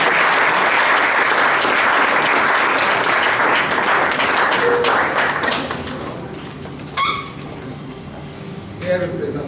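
Audience applause welcoming a representative of the Ministry of Social Action at a formal speech event, a dense sustained clapping crowd that thins out toward the end, with a few scattered claps and thumps remaining.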